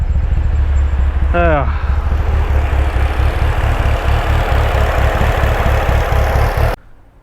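A car engine fitted with aftermarket cams idles with a steady low rumble and a brief rising whine early on, then cuts off near the end.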